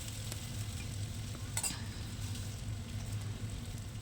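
Diced potatoes frying in oil in a pan, a steady low sizzle throughout with a brief clink of a utensil near the middle, close and even.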